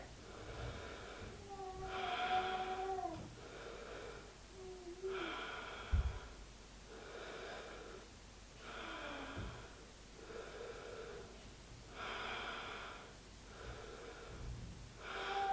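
Slow, deep breaths during a yoga balance pose, each long airy inhale or exhale coming in regular cycles every couple of seconds, close and soft, while a faint tonal voice-like sound drifts in the background.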